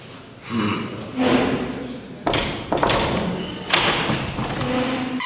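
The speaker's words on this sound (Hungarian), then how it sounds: "Jó, akkor kopogjunk be." Several heavy knocks on a door land in uneven bursts, loud and close, with a couple of thuds between them and short pauses in between.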